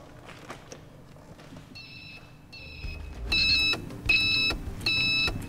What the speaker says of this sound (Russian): Он установил зуммер на поворотнике, чтобы не забывать их выключать.